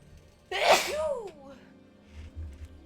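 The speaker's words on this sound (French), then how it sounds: "Faut que j'éternue." A single loud human sneeze close to the microphone during a Hogwarts Legacy game stream, with quiet game background sound before and after.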